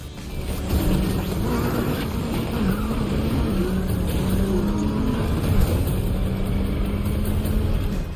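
Racing car engine from a Need for Speed video game, a loud, continuous engine roar whose pitch rises and falls as the car revs and shifts through gears, with no talking.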